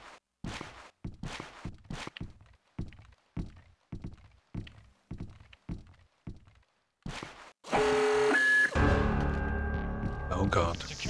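A series of heavy, evenly spaced footsteps or thunks is followed by a loud, sustained alarm blaring in the Splinter Cell video game, a dense electronic tone that fills the final seconds.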